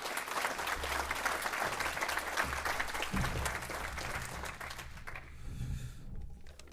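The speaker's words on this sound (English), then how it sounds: "Ladies and gentlemen, if you could just give her a round of applause," A round of audience applause at a conference session fills the room with steady, dense clapping that holds for several seconds before thinning and fading near the end.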